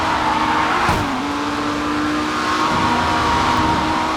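Race cars in the video game Grid 2 roar past with engines revving and pitch sweeping, a brief whoosh and a tire squeal near the start, loud and continuous with no talking.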